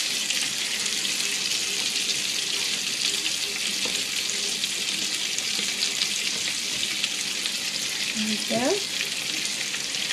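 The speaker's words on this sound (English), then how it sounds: "we're going to go ahead and add our potatoes to our skillet with our onions" Potatoes and onions frying in hot grease in a skillet on a gas stove, with a steady broadband sizzle throughout and a brief scrape or stir near the end, plus a short spoken remark.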